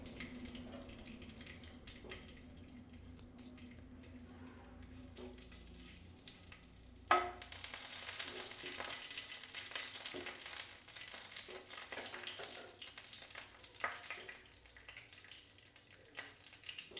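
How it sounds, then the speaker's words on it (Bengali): Whole spices dropped into hot oil for tempering give a soft, steady sizzle and crackle from about midway onward, after a quieter stretch with a low hum; close but fairly faint. "এবারে তেলটা গরম হয়ে গেছে, আমি ফোড়নটা দিয়ে দেবো।"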